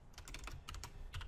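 Fast, light clicking of computer keys, typed in a quick run of uneven taps, close and faint, with no voices.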